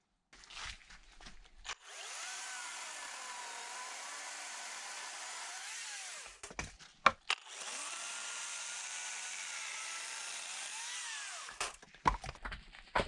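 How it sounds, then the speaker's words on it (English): An electric chainsaw cuts firewood at an off-grid property in Portugal, making two long, steady, high-pitched buzzing cuts separated by a short pause, with knocks and handling noises between and around them. "What are your thoughts on the electric chainsaw?"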